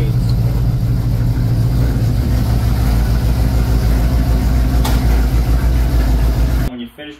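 A 1965 Mustang Fastback's carbureted engine idling, a loud, steady low rumble with an even throbbing pulse that cuts off near the end.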